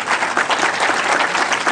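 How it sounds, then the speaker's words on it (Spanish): Loud, dense audience applause at a cooperation agreement signing ceremony on workplace inclusion for people with disabilities, a continuous even wash of many hands clapping. "¿Qué les parece si aplaudimos esta iniciativa"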